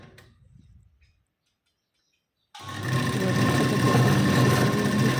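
Sewing machine stitching a blouse waistband, starting after a second of near silence and then running steadily with a continuous whirring, mechanical rattle at close range.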